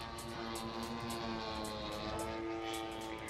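A radio-controlled model plane flies traditional aerobatic manoeuvres at a wing show, its propeller engine droning steadily with pulsing shifts in pitch, fairly close and continuous.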